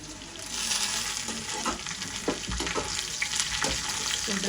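Eggplant sizzling with sautéed onions in a pan for a seafood meal, a continuous close crackling fry with occasional stirring clatters, moderately loud and without talk.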